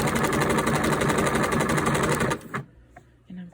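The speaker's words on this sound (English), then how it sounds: "I'm sewing directly on the seam line of the shoulder seam of the jacket." A sewing machine runs steadily, stitching along the shoulder seam of a quilted sweatshirt jacket with a fast, even whir for over two seconds, then stops, leaving faint handling noises.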